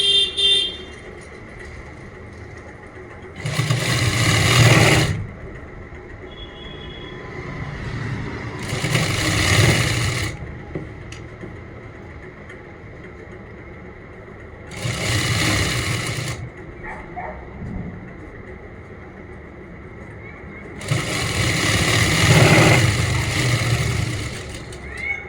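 A sewing machine stitches a salwar in several bursts of rapid mechanical whirring, each lasting a couple of seconds, separated by quieter pauses with faint background noise.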